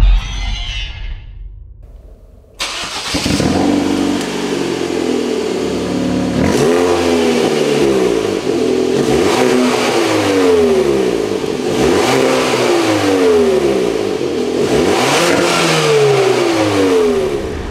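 After a short quiet moment a Hyundai i30 N hot hatch engine fires up, then revs repeatedly through its oval sport exhaust in loud rising and falling bursts, close and raspy, with no talking.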